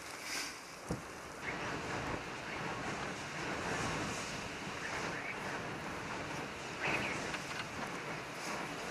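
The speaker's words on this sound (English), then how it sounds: "the winds are gusting terrible, up to 30 miles an hour probably" Strong gusting wind, around 30 mph, roars across the microphone in rising and falling gusts on the North Dakota plains during rifle season, with rushing noise throughout and a few bumps.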